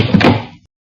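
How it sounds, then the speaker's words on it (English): Small door on a device shut in a 1950 radio drama effect, a single close thunk with a brief rattle, then silence after about half a second. "I place them in here and close the small door."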